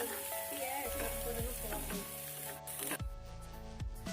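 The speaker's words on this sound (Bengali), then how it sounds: "দিয়ে একটু নাড়াচাড়া করে নিচ্ছি।" Banana flower with ginger and chili sizzles and fries in a pan while being stirred, giving a steady close crackle with scraping stirs, over background music.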